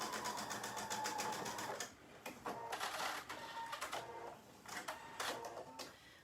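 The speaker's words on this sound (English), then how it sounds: "For this today I'm just going to use the straight stitch." A sewing machine runs a straight stitch in rapid, rhythmic clattering bursts, loud and close, with brief pauses between runs while a beginner's Japanese knot bag is sewn.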